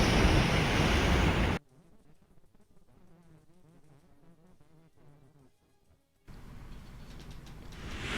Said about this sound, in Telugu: ఉప్పాడలో రాకాసి అలలు రోడ్డుపైకి ఎగిసిపడుతూ ఉన్నాయి.